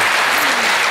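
Dense, steady applause from a studio audience on a Tunisian talk show, loud and continuous for a second with no voices over it.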